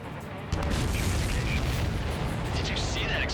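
An explosion in the combat flight game Ace Combat 7 bursts in suddenly and loudly after half a second of quieter sound, followed by a sustained roaring rumble with in-game radio voices over it.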